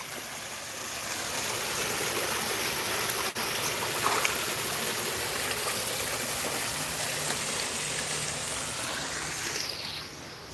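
Water flowing in a backyard pond, a steady near trickle and rush that holds at an even level throughout with no talk.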